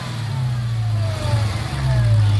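A 2021 Dodge Charger Hellcat Widebody fitted with a JLT cold air intake holds a steady loud engine drone, with thin whining tones gliding across it as the revs rise and fall, close and continuous with no talk.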